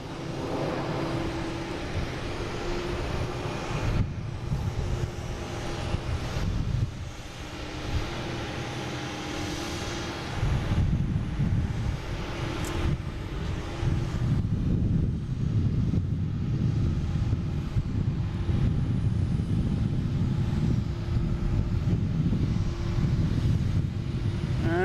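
Team USA's airliner departs Boston Logan, a broad jet engine roar swelling and rumbling at a distance, building to a fuller sustained thrust toward the end, with no talk.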